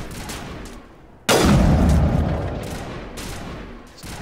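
A single loud sniper rifle shot in Mass Effect cracks out abruptly, then a long booming tail decays over a couple of seconds, with a few quieter gunfire bursts before and after.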